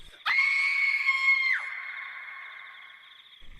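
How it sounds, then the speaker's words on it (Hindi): A yakshini, a female spirit, screams in pain while burning: one long, loud, high-pitched shriek held for over a second, then a reverberant echo tail fading into silence. "वह यक्षिनी दर्द से चिल्लाते हुए जलने लगी"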